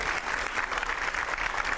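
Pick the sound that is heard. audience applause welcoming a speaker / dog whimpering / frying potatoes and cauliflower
audience applause welcoming a speaker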